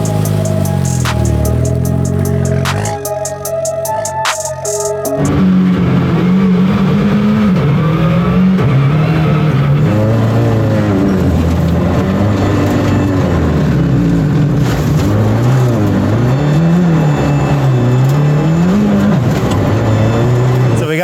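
A two-wheel-drive Ford Fiesta ST rally car driving hard and skidding on a rally stage, its engine loud and close, revving up and down continuously after a brief quieter opening.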